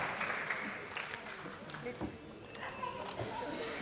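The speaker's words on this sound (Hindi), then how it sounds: "दोस्तों जोरदार तालियों के साथ इनका भी स्वागत किया जाए।" Audience applause at a formal event as a guest is welcomed, a fairly faint wash of clapping mixed with murmuring voices and some chatter.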